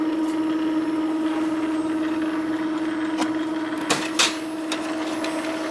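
An Epson inkjet printer runs a head cleaning cycle, giving a steady motor hum with a sustained tone, occasional clicks and mechanical clunks, and no talking.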